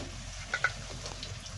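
Onions sizzle faintly in a hot pan after ginger and garlic, a soft steady hiss broken by two quick clicks near the middle of a short moment.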